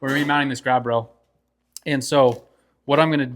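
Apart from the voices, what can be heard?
No everyday noises stand out.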